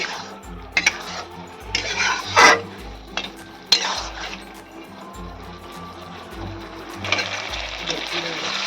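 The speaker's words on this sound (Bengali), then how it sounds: "দইটা দেওয়ার পর ভালো করে আমি আবারও কষাবো।" Spices and yogurt being stirred and sautéed in a pan over a high gas flame for a pumpkin and drumstick vegetable curry, repeated scraping strokes and clinks of a utensil over a low, continuous sizzle.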